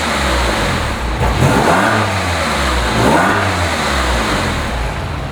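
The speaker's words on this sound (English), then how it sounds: "the exhaust is really one of those features that sounds so great on this car" A 2005 Porsche 911 Carrera C2S engine revs twice through its exhaust, rising and falling in two swells over a steady, loud idle, close by and with no talk.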